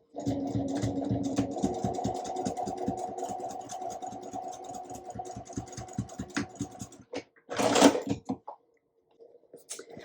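A sewing machine stitching across the seam of a fabric divided candy basket, running in a fast steady rhythmic chatter for about seven seconds up close, then stopping, followed by a short rustle and a few handling clicks.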